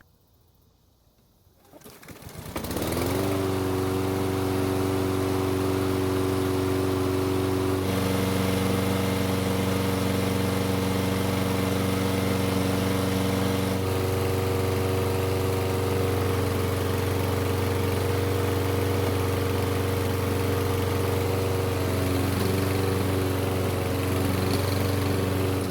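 A Toro self-propelled lawn mower engine starts up after a brief moment and then runs steadily and loudly at close range, holding a constant droning hum throughout with faint birds cooing in the background.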